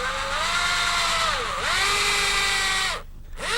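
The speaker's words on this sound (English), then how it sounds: "start my drill bit at the back edge of the rail" A power drill boring shallow holes into a wooden chair rail whines steadily, its pitch sagging and recovering as the bit bites into wood, then cutting off briefly before starting again.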